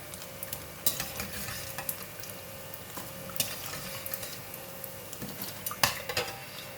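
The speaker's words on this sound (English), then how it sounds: "I'm going to take it out, put it in the strainer, just drain out the oil" Browned fried tofu lifted out of hot oil into a strainer to drain, with continuous quiet sizzling under scattered metallic clinks and scrapes of a utensil against the pan and strainer.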